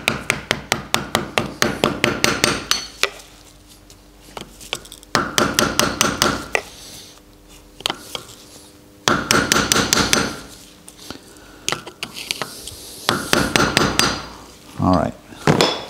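Metal tapping on the cap of an old car's brake disc, fast bursts of sharp hammer strikes separated by pauses, close and loud in a workshop, with a few quieter knocks between.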